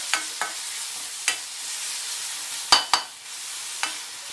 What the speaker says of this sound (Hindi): ये देखिए लहसुन और अदरक भून चुका है गुलाबी हो गया